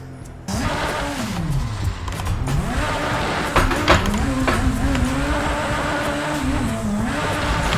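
Koenigsegg supercar drifting in the racing game Assetto Corsa, its engine note rising and falling steadily through the run with bursts of tire squeal, loud and close throughout.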